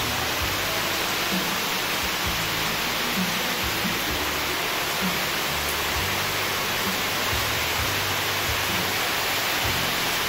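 Heavy downpour in Camarines Norte, a loud, dense, unbroken roar of rain close by with no voices.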